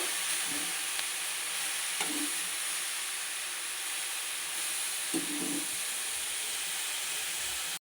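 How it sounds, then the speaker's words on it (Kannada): Carrots for carrot halwa fry on a medium flame, giving a steady soft sizzle and hiss throughout, with a few faint stirring scrapes and no talking. "ಇದನ್ನು ನಾವು ಮೀಡಿಯಮ್ ಫ್ಲೇಮಲ್ಲೇ ಇಟ್ಟು ಫ್ರೈ ಮಾಡ್ಕೊಳ್ಳೋಣ"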